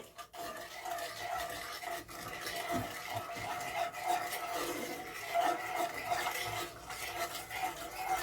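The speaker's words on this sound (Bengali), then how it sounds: "একটু নেড়ে দিচ্ছি।" A spoon stirring sugar into a cooking pot for a rohu fish kebab dish, with soft continuous scraping and rubbing against the metal, faint and close, with no one talking.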